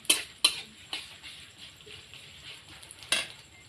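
Chopped onions going into hot oil in a pan: a few sharp clattering hits followed by a soft, faint sizzle and light stirring, with no talk over it.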